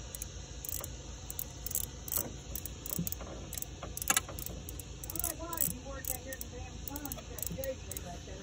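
Ratchet wrench clicking in quick repeated bursts while snugging a fastener under a car hood during a PCV valve replacement, close and crisp over a steady engine-bay hum, with short squeaky tones mixed in.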